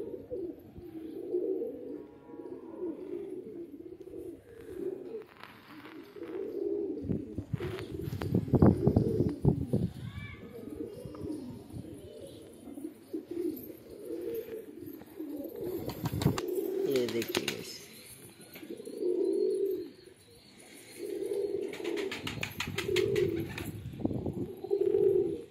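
Two pigeons coo in a repeated rhythmic series of low, throaty calls, close by, with a person talking intermittently over them and a few brief rustling or clattering bursts.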